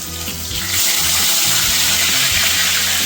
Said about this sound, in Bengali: এবার আমি চিংড়ি মাছটা ভেজে নেব। একটা একটা করে ছেড়ে দেব।